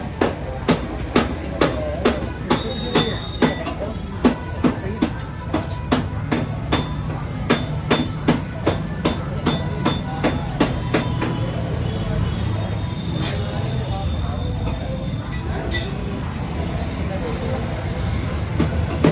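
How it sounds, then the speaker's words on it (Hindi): A mechanic hammers on a Swaraj tractor during welding work, with a run of regular sharp metallic blows that later thin out over a steady mechanical hum. "लो भाई देखो कर दी वेल्डिंग चालू।"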